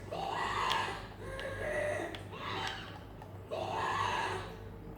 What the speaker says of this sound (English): normal Ghast screams when I damage it